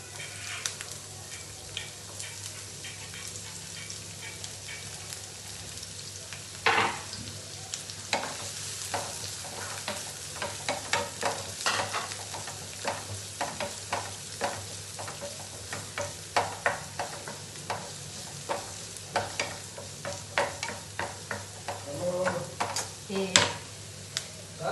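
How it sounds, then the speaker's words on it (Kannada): Onions frying in oil in a kadai, with a steady background sizzle and scattered clinks and scrapes of stirring throughout, no voices. "ಇವಾಗ ಒಂದು ಕಡಾಯಿ ಇಟ್ಕೊಂಡಿದ್ದೀನಿ, ಸ್ವಲ್ಪ ಆಯಿಲ್ ಹಾಕ್ಕೊಂಡಿದ್ದೀನಿ. ಸ್ವಲ್ಪ ಈರುಳ್ಳಿ ಹಾಕೋತಾ ಇದ್ದೀನಿ."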